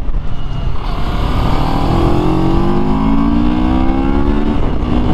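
A Moto Morini X-Cape motorcycle accelerates close by, its engine note climbing steadily in pitch as it pulls away, loud and continuous with no talking.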